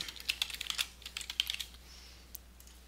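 Quick bursts of computer keyboard typing with sharp mouse clicks at a desk, close and fairly quiet, fading to near silence toward the end with no talking.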